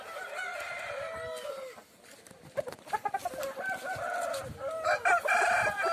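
Chickens cluck in a farm shed under a cashew tree while a rooster crows nearby, drawn-out calls mixed with short clucks and scattered clatter, fairly close and moderately loud.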